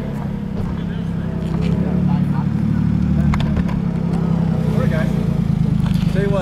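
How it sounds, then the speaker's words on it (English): Small Japanese kei truck rolling in at a Cars and Coffee meet of modified JDM cars, its engine a steady low drone that grows louder midway, with people talking over it throughout. "Nice little key truck."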